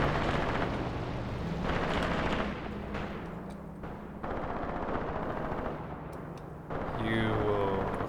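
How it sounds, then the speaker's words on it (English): In the video game Graviteam Tactics, a Panzer IV tank gun fires amid a battle, with repeated heavy blasts and rumbling gunfire in bursts, a ringing tone near the end, and voices speaking over the combat. "that's the Panzer IV shooting"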